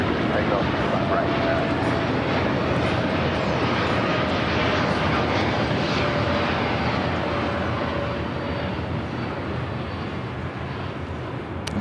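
Jet airliner powering up for takeoff on runway 25 right at LAX, a steady broad engine roar that stays loud throughout, with radio chatter faintly present underneath.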